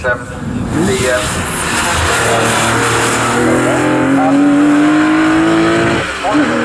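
GT and GT4 race cars at Snetterton circuit roar past with loud revving engines and a rising, then falling pitch, with a brief tyre squeal, under continuous commentary.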